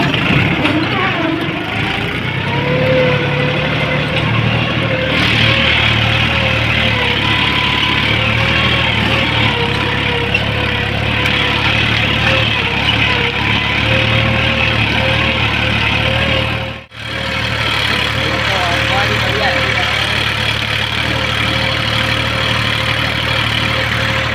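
A tractor engine drones steadily and loudly throughout while working a wheat field, with a low rumbling hum and one brief dropout near the end.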